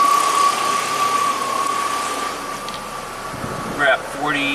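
A 1991 Audi 200 Quattro idles with the A/C compressor and cooling fan running, a steady hum with a sustained tonal whine, and a short burst of other sound near the end.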